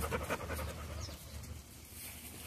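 Puppy snorting and panting in quick bursts while playing with a small ball, close by, with rhythmic breathy pulses over a steady low rumble.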